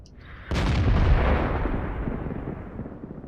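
A German GW Panther self-propelled artillery gun fires in World of Tanks, a single loud blast with a sharp onset and a long, slowly fading rumble.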